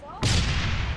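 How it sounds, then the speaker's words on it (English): Grenade blast in Halo Reach: a single sharp, loud explosion erupts after a short voice fragment, then a broad roaring decay that stays strong to the end. "Yeah, I got a grenade thrown at me just then."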